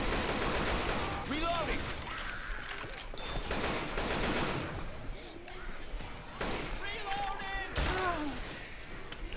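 Rapid bursts of automatic gunfire in the zombie shooter Left 4 Dead 2 crackle through a noisy game mix, with repeated volleys and thuds while players talk over the action.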